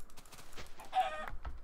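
A single short cluck from a chicken in the game TerraFirmaCraft stands out clearly over low background game noise, close by, with no talking.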